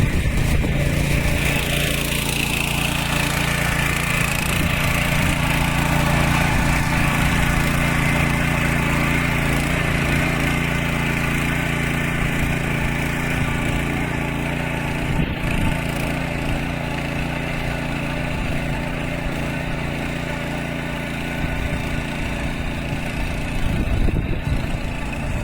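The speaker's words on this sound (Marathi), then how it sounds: "भांग्यात पाणीला ट्रॅक्टरने इकडे नांगरणी चालू केला" A tractor ploughs a flooded rice paddy at a village field in Rajapur. Its engine drones loudly and steadily close by for the whole stretch, with a faint whine and some splashing clatter near the end.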